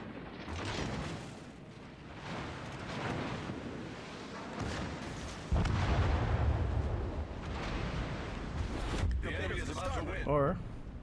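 Battleship guns boom in a World of Warships Legends match, with heavy rumbling blasts and explosions layered over continuous game noise and someone talking throughout.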